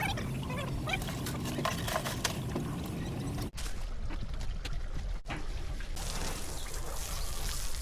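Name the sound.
water spraying while washing a speedboat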